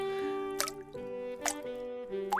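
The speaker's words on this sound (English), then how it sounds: "The drip, drip, drip of a leaky faucet pounded a sink." Water from a leaky faucet drips into a sink in a lounge: three sharp, evenly spaced drops over a soft tonal background, with no talk.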